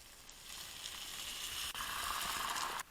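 Liquid poured into a pan of sautéed curry for curried pork chops hisses in a loud, steady sizzle that holds for about three seconds, dips briefly midway, then cuts off abruptly near the end.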